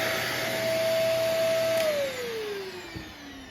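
A Shark Rotator/Navigator upright vacuum cleaner runs close and loud with a steady motor whine that drops in pitch near the end as it is lifted and the brush shuts off.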